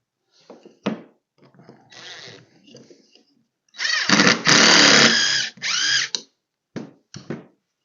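A power drill pre-drills a screw hole in a wooden rocker for a kids' airplane, sounding in a few short bursts of whirring followed by one long, loud, close run of drilling and a couple of brief final spurts.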